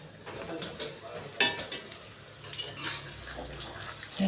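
Peanut and anchovy peyek crackers frying in oil, a steady soft sizzle with faint stirring clatter throughout, a brief louder scrape partway through.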